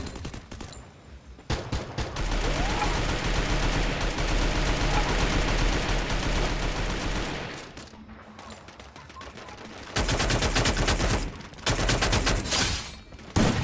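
Sustained bursts of gunfire in the shooter game Free Fire, including sniper rifle shots, dense rattling volleys lasting several seconds, a short lull, then more rapid shots, loud and close.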